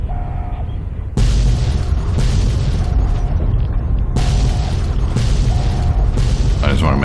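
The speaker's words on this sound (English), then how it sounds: "So much exploding in here." Heavy booming explosions from Fallout: Tale of Two Wastelands, loud and close, starting after a quiet second and then repeating in a steady run of blasts with only short pauses.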